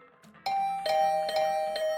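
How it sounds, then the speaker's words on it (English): Repeated doorbell chimes in the video game Hundred Line Last Defense Academy, a bright two-tone ring sounding several times in quick succession, loud and close, with a faint low tone beneath at the start. "the unrelenting ringing of my doorbell"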